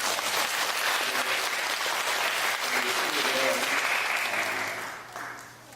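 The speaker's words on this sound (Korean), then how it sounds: "우리 한번 크게 박수 한번 해주시죠." A church congregation gives a loud, sustained round of applause, a thick wash of clapping that holds steady with faint voices beneath before fading near the end.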